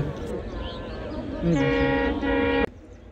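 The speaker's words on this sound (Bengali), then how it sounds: "হঠাৎ করে ট্রেনের আওয়াজ পেলাম। আর দেখুন এই কুয়াশা ভেদ করে ট্রেনটি কি দ্রুত বেগে ছুটে আসছে।" A train races through a foggy winter dawn in the countryside, its horn sounding a loud, sustained harmonic blast for about a second before cutting off abruptly, over steady outdoor rumble and background voices.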